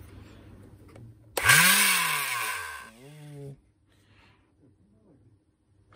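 A machine with a probably seized bearing starts up with a loud, harsh whine that climbs in pitch, then runs down with a falling groan and stops, heard close up over quiet room noise.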